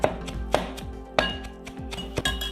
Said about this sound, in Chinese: 最后将这3种混合在一起剁